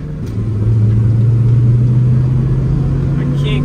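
A turbocharged Honda K20 engine revs hard and close by, a loud, sustained engine note that settles into a steady drone and holds for a few seconds.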